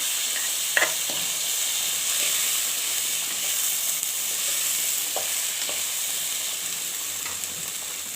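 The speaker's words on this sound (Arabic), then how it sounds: "اهو نقلبها تقليبتين كده مع الشعريه عشان يبقى الرز بتاعنا بتاعي" Steady sizzling hiss of rice and vermicelli frying in a pan, with occasional soft scrapes and knocks from a spoon stirring, close and continuous.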